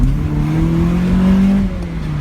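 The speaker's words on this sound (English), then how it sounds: "Motor sounds great, doesn't it?" A Toyota Celica engine roars loud and steady, its pitch rising slightly as it accelerates hard, then easing off near the end.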